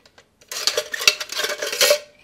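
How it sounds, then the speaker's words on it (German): A small camping cutlery box is handled, with metal utensils clattering and rattling inside in a rapid burst of close, bright clinks after a few faint taps, with no talking. "einen kleinen Besteckkasten,"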